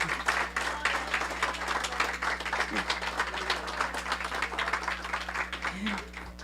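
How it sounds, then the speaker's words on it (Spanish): A church audience applauds in a dense, continuous patter of clapping, with voices talking over it and a low steady hum underneath. "Dele un fuerte aplauso al Rey."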